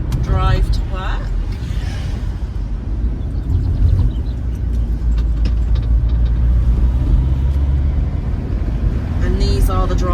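Steady low road rumble inside a car on a commuting drive past dry stone granite walls, continuous and fairly loud, with a person talking over it at the start and end.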